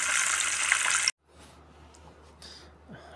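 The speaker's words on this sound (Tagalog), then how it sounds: "Ilalagay lang po natin sa tubig." Water pours in a loud continuous rush while vegetables are being cooked, then cuts off abruptly, leaving quieter kitchen handling noises and a faint splash.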